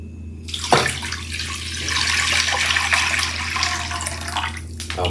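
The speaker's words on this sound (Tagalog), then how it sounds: "Tapos lalagyan na natin ng ating tubig." Water poured into a sugar and gelatin mixture for prosperity gelatin, a steady close splashing rush lasting several seconds alone.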